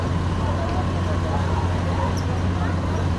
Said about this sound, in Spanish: como hay mucho tráfico, como ustedes pueden escuchar